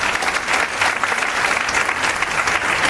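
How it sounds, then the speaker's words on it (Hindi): An audience at a leadership and team-building seminar claps for two people, a loud, continuous wash of applause from a crowd that holds steady for the whole stretch. "बजाओ ताली इन दोनों की"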